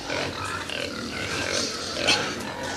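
Pigs grunt and snuffle close by in a dense, overlapping series of rough snorts with a few higher squeals, continuous across the short stretch.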